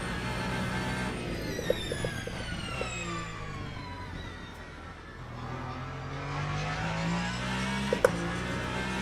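A GT3 race car engine in the Le Mans Ultimate racing game revs and shifts, its pitch sweeping down then climbing again under load, loud and continuous with a couple of sharp clicks.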